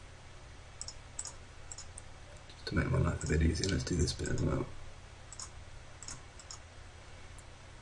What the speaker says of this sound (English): So I'm left clicking to create the polygon shape and right click to finish